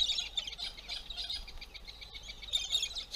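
Morning birds chirping in outback Western Australia, a quick busy series of high tweets and twitters from several birds, fairly faint and steady, no voices.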